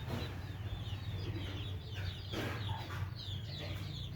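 Hens cluck nearby while small chicks peep in a steady, busy chorus, with a rooster among the flock.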